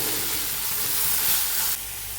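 Ingredients for a fish-less fish curry sauté over the lowest flame, giving a steady, close, broadband sizzling hiss that drops noticeably quieter near the end.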